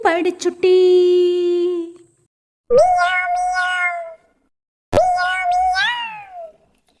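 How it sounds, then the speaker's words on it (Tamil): A kitten gives three drawn-out, close, loud meows with rising and falling pitch, each separated by brief silence. "மியாவ் மியாவ் பூனைக்குட்டி மீசை வைத்த பூனைக்குட்டி"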